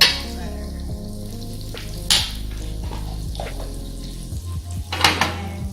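Butter sizzles and fries steadily in a pan for a rib-eye steak, with a couple of utensil clinks and scrapes over the continuous crackle, close and moderately loud.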